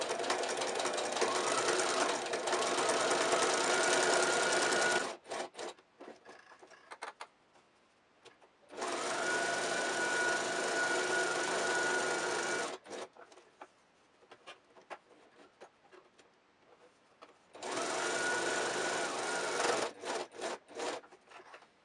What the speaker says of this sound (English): stitch all along these three edges only